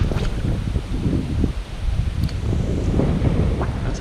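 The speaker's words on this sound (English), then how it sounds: "That's how bad the wind is right now." Strong wind on a river during a kayak trip: a constant loud low roar of wind buffeting the microphone, with faint rustling and water movement underneath.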